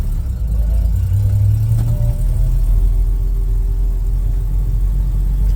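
An all-original 1976 Toyota FJ55 Land Cruiser backs up, its engine humming low and steady with a brief rise in pitch partway through, close and alone without talk.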